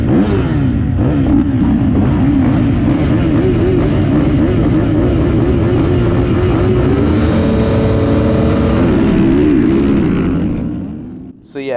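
Motocross bikes racing at Culham MX Park, engines roaring together in a loud, continuous pack with rising and falling revs, the snarl holding steady until it cuts off abruptly near the end.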